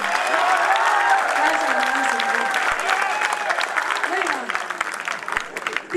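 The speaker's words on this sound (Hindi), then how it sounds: "आप सब एक बार ताली बजा करके मुझे अनुमति दीजिए कि मैं आपके बीच काव्य पाठ करूं।" Audience at a Hindi poetry recital (kavi sammelan) applauds in a sustained, even wash of clapping with a rising-and-falling voice murmuring over it, fading slightly near the end.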